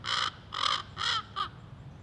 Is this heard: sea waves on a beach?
no